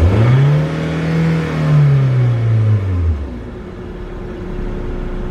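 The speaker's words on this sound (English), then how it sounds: "So if I was to rev the RPM, you will see real time the RPM going up." A car engine revs up and then falls back during an OBD2 diagnostic check with the car stationary, its rising and falling drone loud and close before it settles to a low idle rumble.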